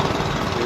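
Gas-powered bamboo boats passing on a river, their engines giving off a loud, steady mechanical rumble that continues without a break.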